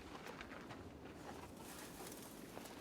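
A Cape Verde petrel (gongon) calls with faint, repeated cooing notes at a high-altitude seabird breeding site in the Cape Verde archipelago, nearly buried in dense steady hiss.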